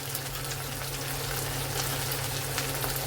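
Turmeric, garam masala, red chili and coriander powders sauté in hot oil for a Konkani egg curry, producing a dense, even sizzling hiss that is close and continuous with no talk.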